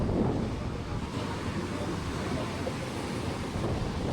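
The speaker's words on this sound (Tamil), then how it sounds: "செம்மையா கடல் ஆக்ரோஷமா கொந்தளிக்குது." Rough sea waves crash and churn on a Bali coastline, mixed with strong gusting wind buffeting the microphone: a steady, loud, close roar throughout with no voices.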